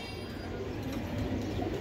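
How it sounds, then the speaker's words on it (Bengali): A chocolate-coloured racing pigeon coos softly and steadily, close by, with low murmuring and other birds around it throughout. "বন্ধুরা এটা হলো চকো রেসিং কবুতর"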